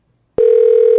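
A telephone call signal on the line, a single steady electronic tone that starts abruptly partway through and holds loud and unbroken to the end, with no voices.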